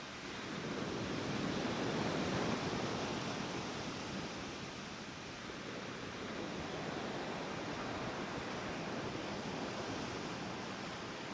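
Mediterranean Sea waves at sunrise make a continuous broad wash of surf, steady and enveloping with gentle swells in loudness, heard alone with no voices.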